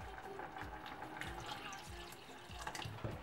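Water is poured into a pot of quince jam cooking on the stove, a close, splashing trickle with light drips, while a voice talks quietly underneath.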